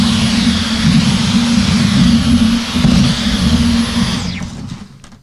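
A Dyson V15 cordless vacuum cleaner runs with a loud, steady high whine and airy rush, then switches off and spins down quickly to near silence.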